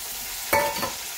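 Tomatoes dropped into a pan of browned onions for a taro curry, giving a quick loud burst of sizzle with a clink of the utensil, then a second smaller burst over a steady background hiss.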